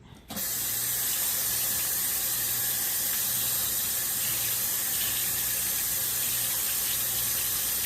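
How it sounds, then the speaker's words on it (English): Steady running water pours continuously over raw meat being rinsed, a broad hissing rush with a faint low hum underneath, close and fairly loud throughout. "We're just going to rinse it off and pat it off"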